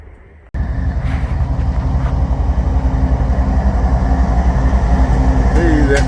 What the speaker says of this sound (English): I thought that might be a freight.